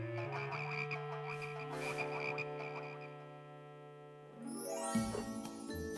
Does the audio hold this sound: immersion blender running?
no